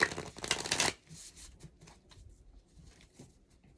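A short riffle of affirmation cards being shuffled, crisp and close for about a second, then fading to faint quiet handling.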